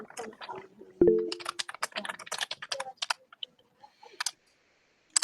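Rapid clicks of fingers typing on a computer keyboard during an online lecture call, in a close, irregular run of keystrokes with a heavier thump near the start and brief pauses between bursts.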